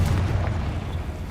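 Confringo fire spell going off in a Hogwarts video game, a deep rumbling boom with a low roar that fills the short moment and slowly eases.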